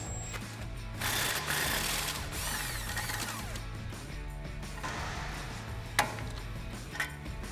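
A power tool or ratchet whirs and buzzes in bursts while removing 17mm bolts from a Toyota Tacoma brake caliper, with a steady mechanical hum underneath and a couple of sharp metallic clicks toward the end.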